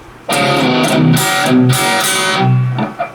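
A distorted electric guitar plays a choppy palm-muted metal riff, short chugging bursts broken by brief gaps with ringing open notes between, loud and close with no voice over it.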